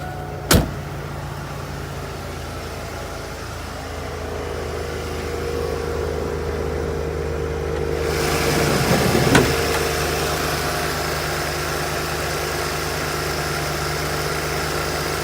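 A 1987 Mercury Grand Marquis LS Brougham with a 5.0L V8 idling steadily, a smooth close engine hum with a sharp click near the start and a slight rise in the middle, no talking.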